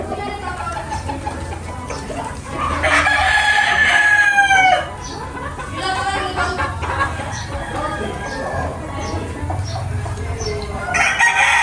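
A flock of chickens on a farm near rice fields clucks busily after being fed, with a rooster crowing loudly partway through; a person talks intermittently over the birds.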